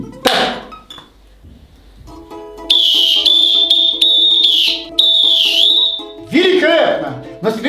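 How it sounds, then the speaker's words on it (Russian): A referee's whistle plays a football march as a melody of long, shrill, sustained notes with short breaks between them. It is close and loud, with bursts of clinking and other noise at the start and end. "Попытаешься что-нибудь исполнить на судейском свистке?"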